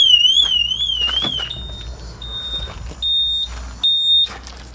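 Car alarm wailing in a rising-and-falling siren for a second or so, then switching to a repeated flat beeping tone in short bursts, close and fairly loud, with faint background noise.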